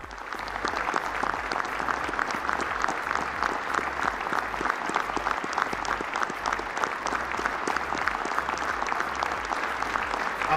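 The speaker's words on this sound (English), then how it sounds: "Matt Gaetz stood up and clapped for McCarthy" Steady applause from a crowd in the House chamber during the Speaker of the House vote, dense rapid clapping sustained evenly throughout.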